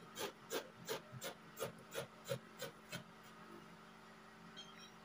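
Scissors cut through fabric for a pinafore dress with a run of about ten rhythmic, close snips, then the cutting stops and only quiet room noise remains.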